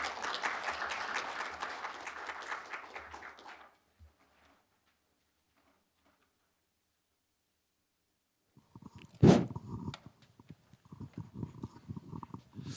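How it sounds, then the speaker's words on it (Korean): A burst of applause from a conference audience, dense clapping that fades into silence, followed later by a loud thump and scattered handling noises. "박수 부탁드립니다."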